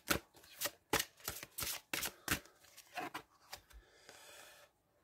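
Tarot cards being shuffled before a reading, a close run of crisp riffling flutters and soft slaps in quick, uneven bursts that fade out near the end, with no talking.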